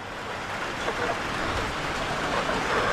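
Steady, dense patter of rain dripping through onto a chicken coop, a continuous hiss with no pauses, fairly close and moderately loud.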